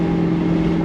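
A Chevrolet Camaro Z/28 with a 4-speed gearbox cruises at 60 mph, its engine turning about 3,000 RPM in a brief, steady, low humming drone.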